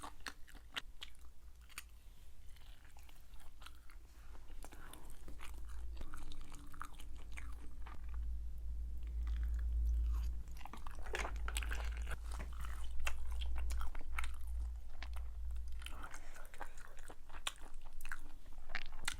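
Spicy chicken feet being eaten up close, with wet chewing, crunching and biting that repeat steadily in quiet surroundings and no talking.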